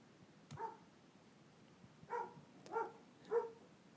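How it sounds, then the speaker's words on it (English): Dogs bark just outside a window, four short, fairly faint barks: one alone, then three spaced more closely together, heard from a short distance in a quiet room. "dogs barking."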